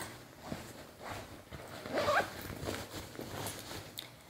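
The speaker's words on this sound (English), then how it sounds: "put it in the zipper already" A Vera Bradley Harry Potter Forbidden Forest handbag is zipped shut with the strap tucked inside, a close rasping zipper pull peaking mid-clip amid soft handling rustles.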